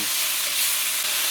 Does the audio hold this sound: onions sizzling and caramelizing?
yes